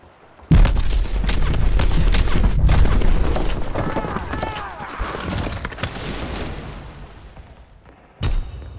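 Gunfire and heavy booms in Call of Duty WWII, in the Winter Siege mode: a loud, dense barrage of thuds and crackling shots that starts suddenly and rolls on, with a final blast near the end.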